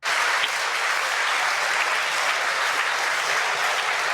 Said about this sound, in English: Even people in the back on the right side clapping.